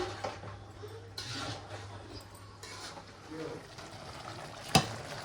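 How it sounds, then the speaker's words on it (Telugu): Baghara rice boils in a pot and is stirred once, with a soft, steady bubbling and scraping close by under quiet talk and a brief clink near the end. "ఉడుకుతుంది ఇప్పుడు అన్నము. ఒకసారి కలుపుకున్నాను."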